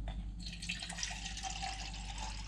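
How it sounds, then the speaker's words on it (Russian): Water pours into a well in flour for khinkali dough, a soft trickling splash that starts after a brief pause and continues steadily, close and quiet in a still kitchen. "делаем небольшое отверстие в центре и наливаем туда воды"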